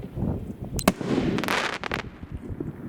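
A Pyroland Totality firework shell launches with a sharp pop, then bursts into a broad crackling, strobing spray of small cracks lasting about a second before fading.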